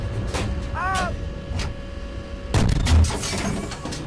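Tank turret blown off by gunfire in the Steel Beasts combat simulator, an M1A1 engagement: a loud, booming blast hits partway through, followed by rumbling debris noise, over steady background engine drone and faint radio tones.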